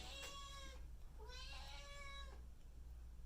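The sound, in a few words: cat meowing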